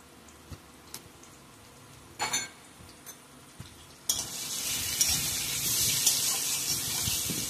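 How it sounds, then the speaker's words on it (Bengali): Potatoes frying in oil with salt and turmeric: a few scattered clinks and stirring scrapes, then a loud, steady broadband sizzle that swells and holds to the end. "আলুটা লাল লাল করে ভেজে তুলব।"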